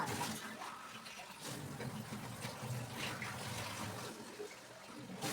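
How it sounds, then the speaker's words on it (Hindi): Water runs continuously from a tap into buckets in a home kitchen, a steady soft rushing and splashing without pauses and with no voices. "बाल्टियाँ सारे अच्छे से भर के रख लूँगी।"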